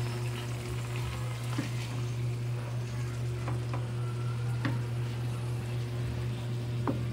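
Marinated chicken fries in a pan with tomatoes for chicken asado, giving a steady close sizzling hiss with a few sharp pops and light utensil taps over a constant low hum, no talking.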